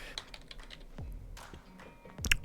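A handful of light keystrokes tap on a computer keyboard in a quiet room, a few irregular clicks with a louder cluster near the end, no voices.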